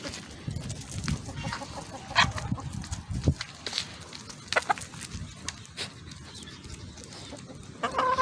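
Hens cluck and murmur nearby in a poultry yard, with scattered sharper calls and rustling over a busy, uneven background.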